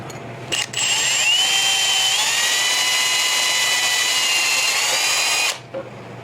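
A power drill whirs steadily for about five seconds at a high pitch while building a forced-air propane burner, shifting slightly in tone partway through, then stops abruptly.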